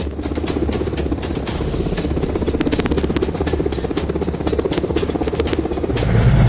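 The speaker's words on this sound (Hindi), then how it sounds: "लखनऊ विधानसभा की इमारत के ठीक ऊपर MI-17 हेलीकॉप्टर की गर्जना हुई" An Mi-17 helicopter roars low over the Lucknow legislative assembly building, its loud, steady rotor thump and engine drone continuous throughout and swelling slightly at the end.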